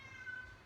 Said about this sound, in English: Yeah, the cat's mad. I don't know if you can hear the cat in the background,